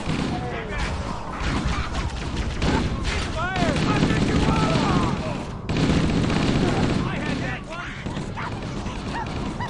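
Sustained gunfire in a Halo: Combat Evolved firefight aboard the Truth and Reconciliation, dense rapid shots and booms running for several seconds under shouting voices.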